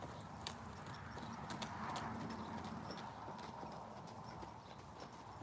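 An older mare moves under a handler, her hooves clip-clopping in an even rhythm over a soft ground, faint and steady with light outdoor ambience and no talking.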